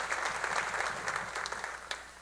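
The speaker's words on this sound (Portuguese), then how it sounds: "pode aplaudir ao Senhor, meu irmão, em nome de Jesus." Congregation clapping inside a church during a Portuguese-language sermon, a steady dense wash of applause lasting a couple of seconds with no voices on top.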